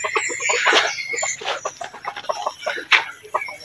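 Backyard chickens cluck repeatedly in the early morning, a busy overlapping flock close by with short, irregular calls and no talk over them.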